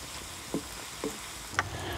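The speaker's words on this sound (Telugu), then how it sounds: "ఈ అల్లం వెల్లుల్లిపాయ పేస్ట్ పచ్చి వాసన పోయే వరకు కలుపుకోవాలి" Ginger garlic paste sizzles softly in a pan while a spoon stirs it, giving three brief scraping knocks over a low, constant frying hiss, close by with no voices.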